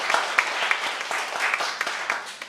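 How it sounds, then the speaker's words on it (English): Audience at a Clarksville, Montgomery County, Tennessee political meeting gives a round of applause, a steady dense patter of many hands with a few sharper claps standing out. "I want you to give yourselves a big round of applause for showing up today."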